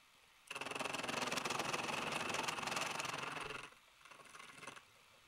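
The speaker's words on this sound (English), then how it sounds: "The mill is running at 600 rpm and I'm slowly cutting towards the gear." A milling machine at 600 rpm slowly cuts gear teeth on a digital dividing head, giving a loud, steady broadband whine with a tonal hum for about three seconds before dropping to a quieter, shorter run.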